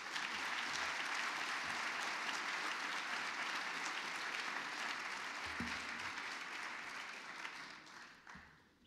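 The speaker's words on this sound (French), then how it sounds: "Merci de bien vouloir applaudir M." Steady applause from a crowd at a French New Year's greetings ceremony for a jazz arranger and producer, a dense, distant-sounding wash of clapping that holds evenly and then fades out near the end.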